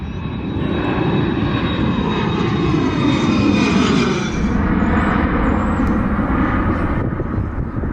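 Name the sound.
airplane taking off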